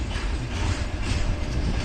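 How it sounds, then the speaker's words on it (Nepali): Train wheels roll over the rails in a continuous, close rumble with faint rhythmic clatter, loud and unbroken with no voices. "यो चाहिँ ट्रेनको चाक है यो चाहिँ ट्रेनको चाक"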